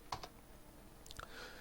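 Typing a command on a computer keyboard: a few soft, sparse key clicks, quiet and close, separated by a pause.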